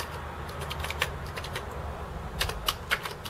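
Keys on a Commodore 64 keyboard are typed in quick, uneven bursts of light clicks and clacks, fairly close and moderately quiet over a low background hum.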